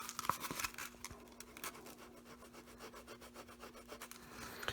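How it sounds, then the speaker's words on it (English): Worn 150 grit sandpaper rubbed over a gouged leather Florsheim shoe, a steady run of close, raspy back-and-forth scratching strokes in quick even rhythm, alone with no talk. "This is 150 grit sandpaper."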